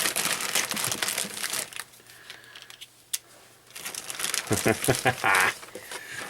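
A BUDK mystery bag package is cut open, bursts of plastic crinkling and rustling at the start and again near the end, close and fairly loud around a quieter middle stretch with a single sharp snip.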